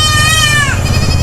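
Several goats bleat loudly and close by on a goat farm, a wavering nasal cry that slides down and then trails into a quieter second call over steady low rumble.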